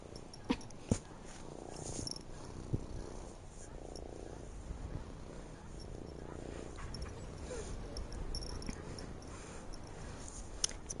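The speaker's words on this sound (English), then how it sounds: "It's purring away." A cat named Panda purrs close by in a soft, steady rhythmic rumble, the pulses swelling and fading every couple of seconds, with a few faint clicks and no talking.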